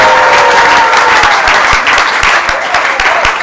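A church congregation applauds in a dense, continuous wash of clapping, with sharp individual claps standing out near and loud throughout.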